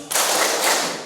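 Students in a classroom break into a loud burst of group clapping for the tepuk fokus routine, a dense wash of many hands that starts abruptly and carries on steadily for about a second.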